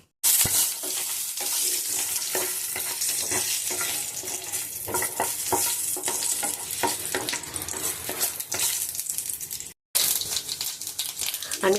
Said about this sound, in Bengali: কতগুলো শুকনো আমি বড়ি আগে ভেজে নেব